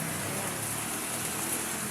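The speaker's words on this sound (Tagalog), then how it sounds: "pero naulan pa rin siya" Steady rain keeps falling in the tail end of Typhoon Nando, a dense, even wash of noise with no break and no voices, loud and close throughout.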